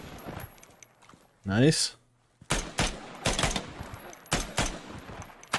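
Semi-automatic rifle fire in the tactical shooter Ground Branch, several sharp separate shots spread across the clip, with a brief whooshing burst near the start and a short spoken word among the shots.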